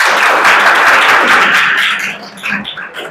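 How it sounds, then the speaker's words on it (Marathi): An audience claps together at a motivational talk on the secrets of success: dense, loud applause sustained for about two seconds, then thinning into scattered, fading claps. "एकदा टाळ्या वाजवा म्हणजे लक्षात येईल."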